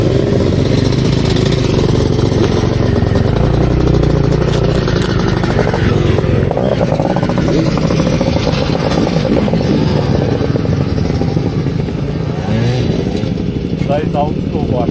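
Old-school motocross bikes on a dirt track at New Beith: a continuous buzzing engine drone holds throughout at a steady, fairly loud level, and people talk over it.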